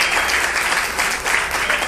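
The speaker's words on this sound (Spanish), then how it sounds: "Aplaudamos al Señor, amén." A church congregation claps together in praise during a worship service, a brief burst of loud, dense applause filling the room.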